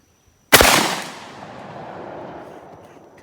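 A 10 gauge shotgun fires a single socket slug at an outdoor range: one sharp, loud blast followed by a long, fading rumble and reverberation.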